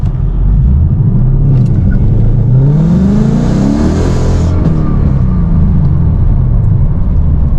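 A Ford Mustang S550 on street tires pulls away hard from an automatic launch start, its engine rumble climbing steadily in pitch and staying loud and close throughout.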